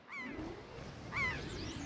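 Seagull squawks from The Legend of Zelda: The Wind Waker, two short nasal honking calls about a second apart, fairly quiet over a soft game background.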